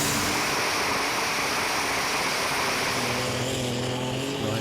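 A pulling tractor's engine revs hard at a Eurocup tractor pulling event in Brande, Denmark, a loud, dense, sustained roar that fills the scene with a slight shift in pitch near the end.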